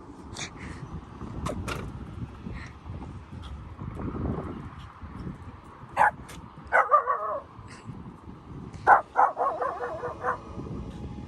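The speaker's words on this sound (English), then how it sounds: "What are you barking at?" A dog barking in scattered bursts, several sharp barks and a quick run of yips, fairly close against a quiet background.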